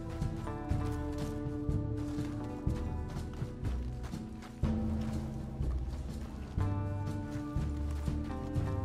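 Horse hooves galloping in Red Dead Redemption 2, a steady clip-clop rhythm running close and loud under a dense layer of game music for the whole stretch.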